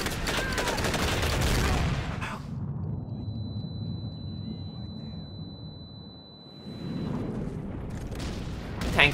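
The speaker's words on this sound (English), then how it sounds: "That tank's gonna blow." Dense gunfire rattles during a Medal of Honor Pacific Assault battle against a banzai charge as a tank blows up. Bursts of shots and blasts fade into a near-silent lull, then the firing swells back.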